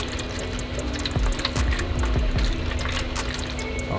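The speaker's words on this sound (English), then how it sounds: "I'm gonna pour the apple juice" Apple juice poured into a pan beside a charcoal grill for smoking pork shoulder, a short trickling, splashing liquid stream with a few clinks, close and moderately loud with no speech.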